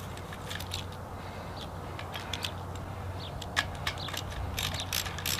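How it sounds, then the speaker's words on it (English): A ratchet wrench retightening a U-bolt while installing an AK series unit, with a spigot aimed toward a bucket. Faint scattered clicks come through close up over a steady low hum, with no talk. "Then retighten that U-bolt."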